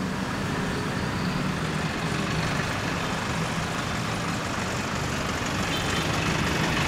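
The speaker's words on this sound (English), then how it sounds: "bit of a traffic jam" Idling trucks, buses and cars sit in a traffic jam on a busy street in Phrom Phong, Bangkok, a steady low rumble of engines and road noise with no clear passes and no voices.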